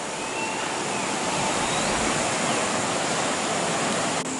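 A river flows through Borneo jungle with a loud, continuous rushing roar that stays even from start to finish, with no voices.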